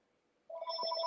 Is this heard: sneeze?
no